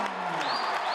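A home basketball crowd roaring after a slam dunk on senior night, a dense, loud sustained cheer that fills the whole brief moment.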